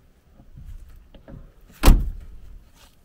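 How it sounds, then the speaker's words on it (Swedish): Door of a Volvo 240 V8 with automatic transmission being shut, a few soft handling noises, then one solid close thud near the end, heard near and alone. "dörrljudet från Volvo med. Klassiker."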